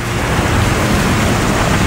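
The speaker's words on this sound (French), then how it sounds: "il commence à pleuvoir" Rain begins pouring in a loud, dense, continuous roar of falling water with a deep rumbling undertone, steady throughout with no voices.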